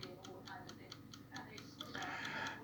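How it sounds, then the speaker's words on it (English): A fully restored 1977 Sangamo Spring Reserve time clock ticks in a steady, even rhythm of crisp clicks, close but quiet, with a voice murmuring faintly underneath toward the end. "You may be able to hear it ticking."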